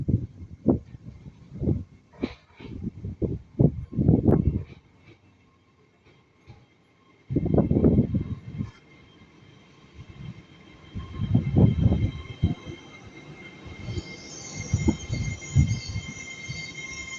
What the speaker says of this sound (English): this train's coming in.